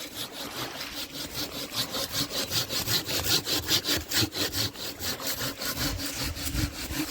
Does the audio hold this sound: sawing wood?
yes